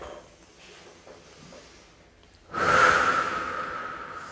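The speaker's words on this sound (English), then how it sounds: "take a deep breath" A single deep breath during a seated relaxation exercise, a long airy exhale swelling suddenly after quiet and slowly trailing off, close to the microphone.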